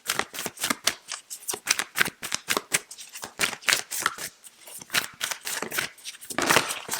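A deck of tarot-style cards is shuffled close up during a reading. It makes a quick, uneven run of crisp riffling and slapping strikes, steady throughout and with no talking.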